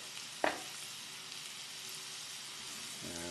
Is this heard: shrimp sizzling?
yes